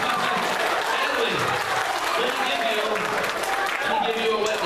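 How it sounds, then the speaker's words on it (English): An audience at a middle school magic show claps for a volunteer, a continuous ripple of applause from a roomful of people, with voices talking over it. "Everybody give her a great big round of applause."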